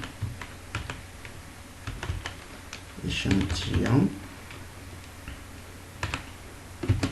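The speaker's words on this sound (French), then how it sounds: "Donc on va taper échantillon." Computer keyboard keys are typed in scattered clicks while entering Python code, with a stretch of speech in the middle partly covering the tapping.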